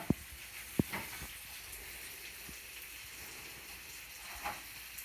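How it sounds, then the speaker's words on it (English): Onions caramelize in olive oil in a pan, giving a quiet, steady sizzle with a few small pops and clicks over a low hiss. "our onions are starting to get a little brown. And we're just going to let them cook."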